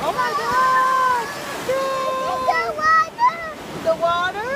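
Surf washes onto a beach as a continuous rushing background, mostly beneath nearby voices that talk and babble over it throughout.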